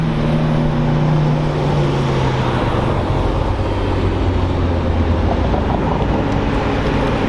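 A convoy of Porsches and other supercars on a mountain road produces a steady, dense roar of engines and tyre noise, loud throughout without letting up, a continuous wash of passing vehicles.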